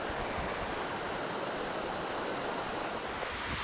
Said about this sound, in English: Mist hitting the rocks and flying in the air.